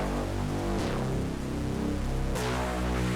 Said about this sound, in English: And dirty bass here.